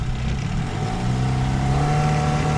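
A boat motor on a taiga river fishing trip revs up loudly and close, its droning hum climbing and holding a strong steady pitch as the throttle opens.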